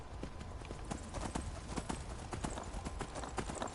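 Steady clip-clop of a horse's hooves trotting in the video game Skyrim, close and continuous with an even rhythm over a low background rumble.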